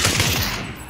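Quick burst of video game gunshots, several rapid close reports in under a second before trailing off, loud and alone without voices.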